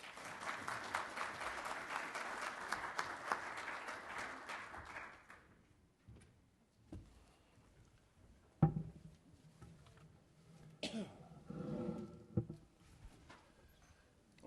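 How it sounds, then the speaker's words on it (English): Audience applause fills a conference ballroom, steady and fairly loud for about five seconds before fading out, followed by scattered faint claps, knocks and room noise. "Please give them all a round of applause."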